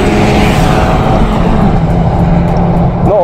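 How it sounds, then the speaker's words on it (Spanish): Loud, continuous engine roar from a Genesis Coupé 2.0T launching hard with wheelspin, a steady dense drone across the whole stretch with no one speaking. "el maquinón se quedó patinando en la salida hartísimo"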